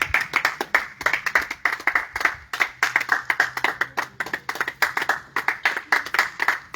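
A church congregation claps in steady rhythmic unison to acclaim Jesus at a baptism service, many hands striking close and loud in a fast even beat, with no talking over it.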